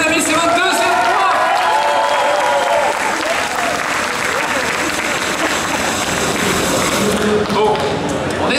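An audience applauding on stage at the Mangame Show convention in Fréjus, 2016: loud, dense clapping and cheering from a large crowd, continuous for several seconds with a host's voice over it.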